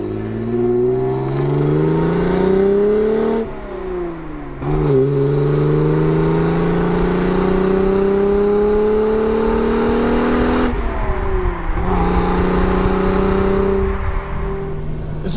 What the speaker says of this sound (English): So we're driving a 1989 Alfa Romeo Milano Verde.